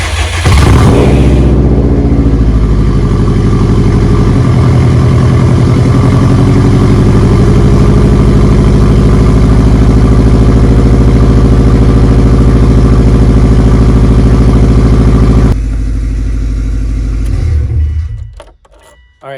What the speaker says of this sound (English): I'm gonna put you guys down here so you guys can hear the cold start.